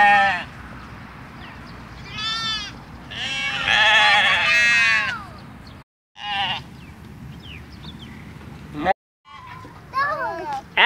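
A large flock of sheep at a farm shop in Mukdahan, Thailand, bleats in repeated overlapping calls, loud and close, with children's voices and chatter mixed in throughout.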